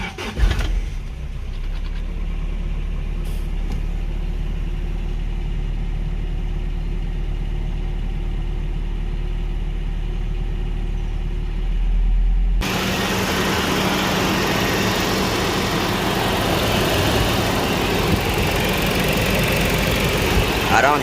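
A Toyota 22RE truck engine idles close by with a steady, even rumble and hum that holds for the whole stretch, its tone brightening and thickening partway through.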